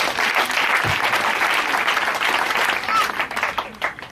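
A church convention congregation applauds in a dense, sustained wash of clapping across a large room, steady and loud before thinning slightly toward the end.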